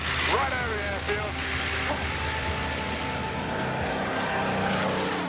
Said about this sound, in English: We're going low now, right over the airfield.